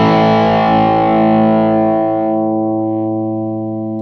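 A heavily distorted electric guitar chord through a Bogner Ecstasy Mini amp head rings out loud and thick, then slowly decays with no other sounds around it.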